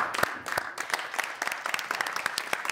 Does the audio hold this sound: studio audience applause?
yes